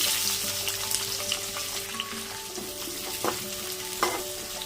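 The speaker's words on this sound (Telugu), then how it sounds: "ఆయిల్ హీట్ ఎక్కగానే ముందుగా ఆవాలు, జీలకర్ర, 1 కప్ వరకు ఉల్లిపాయలు," Mustard seeds, cumin and onions fry in hot oil for Rayalaseema-style uggani. A constant close sizzle and crackle is joined by occasional stirring scrapes, and there is no talk.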